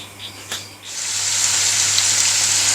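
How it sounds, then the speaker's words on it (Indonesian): Coarsely blended spice paste hits a hot pan and bursts into a loud, steady sizzle after a couple of light clinks, continuing close and unbroken with no talk. "ini bumbu yang udah di blender kasar, kita tumis sampai harum dulu"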